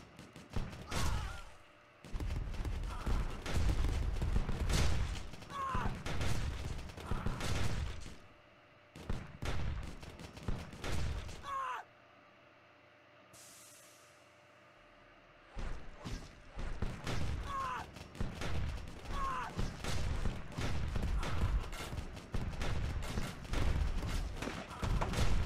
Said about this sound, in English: Oh yeah, the airstrike.